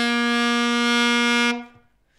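Saxophone played with too much mouthpiece taken into the mouth gives one bright, nasal, quacking note rich in overtones. It is held steadily and loud for about a second and a half, then cuts off and fades.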